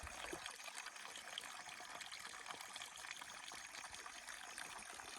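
Water trickles and babbles steadily in a mountain stream in the Dhauladhar Range near Palampur, a constant, fairly faint rushing with no voices.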